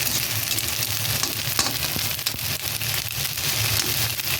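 Fried rice sizzling in plenty of oil in a pan, a steady close crackling hiss that continues evenly throughout with no talking over it.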